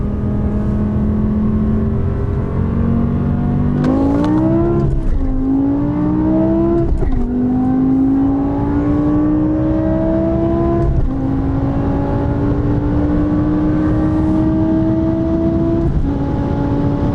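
A BMW M5 with a V10 engine accelerates at full throttle, its engine pitch climbing steadily through several gears with sharp drops at each shift, loud and close, with no talking.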